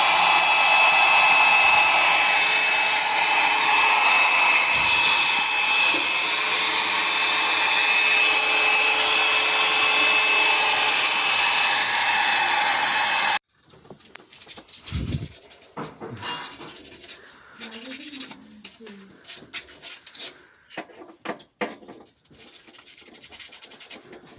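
A hair dryer blowing steadily and loudly up close to dry the ionization cable of a Demirdöküm Aden combi boiler, then cutting off abruptly, followed by scattered handling knocks and rustles.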